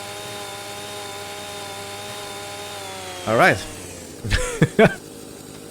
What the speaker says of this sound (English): Well, it is a funny chainsaw, but I guess it works.